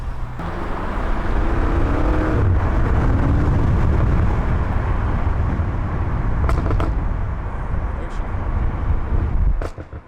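A BMW M5 F90 engine roars loudly under hard acceleration, then eases off, with a few sharp exhaust pops and crackles near the end.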